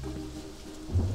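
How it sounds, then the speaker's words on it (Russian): Steady rain with a low rumble of thunder building near the end, a continuous soft hiss of weather ambience in the video game Only Up, with no voices. "Дождь пошел."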